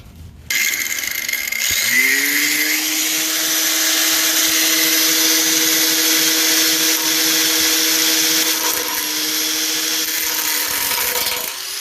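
A power tool spins up and cuts into metal on a 1969 Mustang fastback, holding a steady, loud high whine for about ten seconds before winding down.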